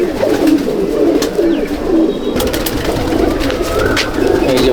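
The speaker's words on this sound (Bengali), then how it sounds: "এটা ম্যাড্রাস পায়রা দুটোই" A pair of Madras pigeons coo in a large Andhra pigeon loft at Shyamnagar, a loud, steady, throaty rumble with several birds overlapping, mixed with faint clicks and rustling.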